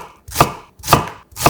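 A knife chops a quarter of an onion into small pieces with three loud, close, evenly spaced thuds on a cutting board, each with a short crunchy tail.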